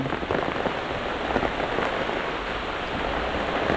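Steady rain pours down outdoors, a dense continuous hiss of drops hitting surfaces, loud and close with no voices over it.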